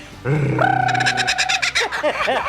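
A laughing kookaburra gives a loud warbling call with rising and falling whistles and clicks, close by, with a bit of background voice.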